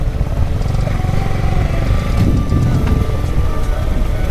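A motorcycle being ridden on a cold day gives a steady, loud engine drone with wind rush throughout, close by and with no talking.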